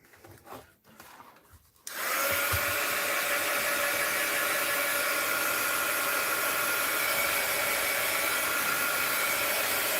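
After a couple of seconds of quiet handling, a dryer switches on and blows a loud, steady rush of air to dry painted bows on an art journal page, running close and unbroken to the end.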